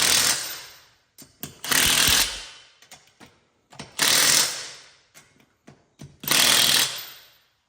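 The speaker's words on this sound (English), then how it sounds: "Go ahead and start torquing these down." An impact wrench drives lug nuts onto steel wheels fitted with wheel adapters, in three loud, even bursts of about a second each, with short ratcheting clicks and pauses in between.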